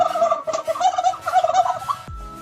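A titou, a large wild bird, calls with a rapid gobbling, turkey-like chatter in repeated bursts, loud and close in open fields, ending with a low rumble.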